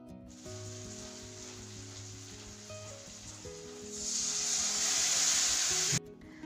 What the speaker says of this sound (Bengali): আর পেঁয়াজটাকে কিন্তু এখন আমি ব্রাউন করে ভেজে নেব